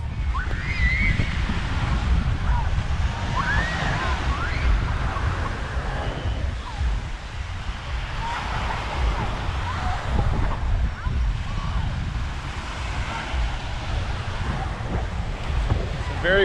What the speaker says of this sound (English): Very windy day here